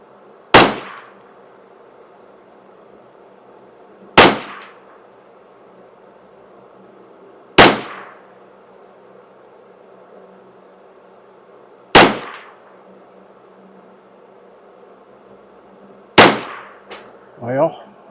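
Five sharp, loud gunshots from a custom Ruger 10/22 semi-auto rifle ring out one at a time, spaced about four seconds apart, each with a short ringing tail; a faint voice follows the last shot.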